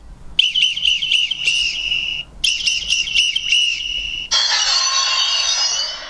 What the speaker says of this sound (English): Oh, a whistle.